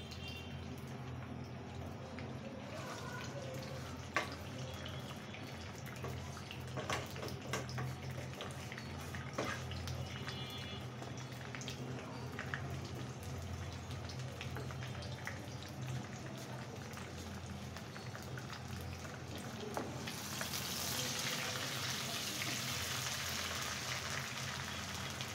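Chopped onion frying in mustard oil for a chicken skin pickle, a soft continuous crackling sizzle with scattered pops, faint and steady throughout, growing slightly brighter near the end.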